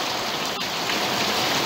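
Steady rain falls outdoors in a broad, even hiss of drops hitting surfaces, loud and close with no voices.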